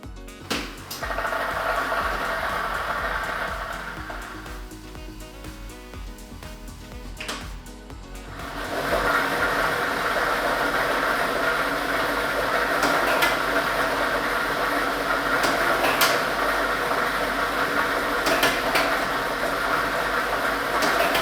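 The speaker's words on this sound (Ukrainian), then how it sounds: "ми вмикаємо лототрон" A lottery drawing machine runs during a televised state lottery draw, starting with a few clicks and mechanical knocks, then settling into a steady dense rattling rush of tumbling balls and blown air that continues at moderate level.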